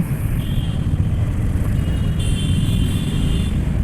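Steady traffic rumble of car and vehicle engines in a Dhaka jam, heard from a motorbike near Gulistan, a constant close low drone with faint higher tones.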